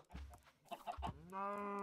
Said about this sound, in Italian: Hanno paura i polli.